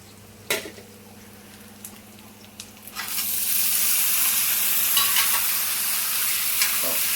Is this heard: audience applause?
no